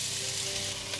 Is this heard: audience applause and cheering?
no